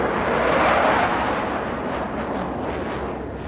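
A giant explosion effect in a tabletop role-playing podcast: a loud, sustained, rumbling roar that swells early and slowly settles, heard alone without voices.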